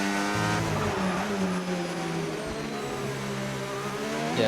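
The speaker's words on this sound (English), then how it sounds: "Real quick on the onboard sound of the car right now." Onboard engine sound of a race car in a racing video game at the Brazil round: a steady high-pitched engine whine with rising and falling revs and faint tire squeal, loud and close.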